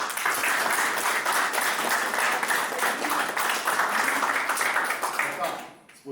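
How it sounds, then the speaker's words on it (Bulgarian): Wedding guests applaud the bride Slavka, a dense, steady burst of clapping that fills the room for about five seconds before tapering off abruptly. "според моят часовник, за Славка сте ръкопляскали повече"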